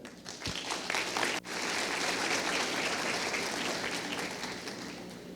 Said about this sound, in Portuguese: Fazer um aplauso para eles, por favor.